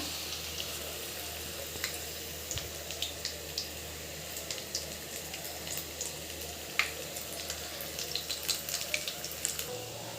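Corn vadas fry in hot oil, a continuous hiss with dense crackles and pops that stays steady and close throughout.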